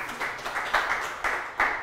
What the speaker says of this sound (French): Alors, applaudissez pour moi.